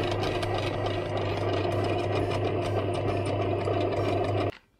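A home bakery bread maker runs a rice cake (mochi) cycle, giving off a steady, fairly close mechanical hum with a low motor drone and faint rattling that holds level for several seconds, then cuts off abruptly near the end.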